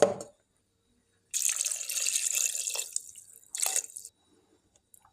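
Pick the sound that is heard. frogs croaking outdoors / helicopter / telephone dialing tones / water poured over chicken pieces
water poured over chicken pieces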